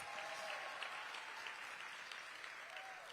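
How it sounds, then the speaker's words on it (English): Applause at a Washington, D.C. arts awards ceremony honoring the Office of Cable Television, Film, Music, and Entertainment: steady, dense clapping from a large audience filling the room, continuous and moderately distant, with no voices over it. "Please give them a big round of applause."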